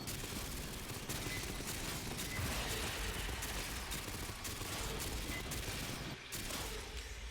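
Sustained SMG fire in the sci-fi shooter Aliens: Fireteam Elite, a dense, continuous rattle of rapid shots with no pauses, quite faint and distant in the mix, with no talk over it.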